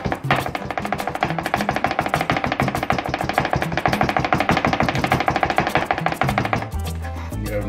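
A knife smashes garlic and then minces it on a cutting board, with rapid, steady chopping strokes close up and a few heavier thuds near the end; no voices.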